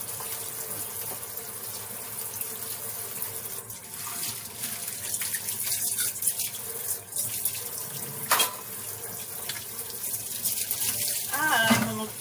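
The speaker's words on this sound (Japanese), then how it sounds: "洗い物ってめんどくさい" Water runs steadily from a tap while dishes are washed at a sink, with soft clinks and splashes and only a little quiet speech.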